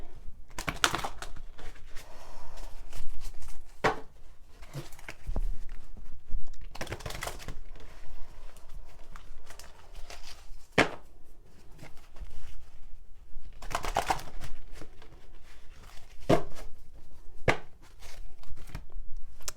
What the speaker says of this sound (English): I'm going to shuffle because these are huge.